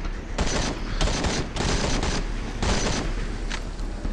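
Rapid automatic gunfire from a gun in the zombie shooter Into the Dead 2, loud and close, coming in several sustained bursts with short gaps between them and no talking.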